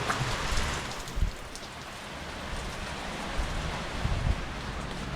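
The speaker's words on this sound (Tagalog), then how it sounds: "Lakas na ng ulan dito mga boss" Heavy rain with wind pours down steadily ahead of a typhoon in the Philippines, a dense, constant hiss of drops close by with a few louder gusts and splatters.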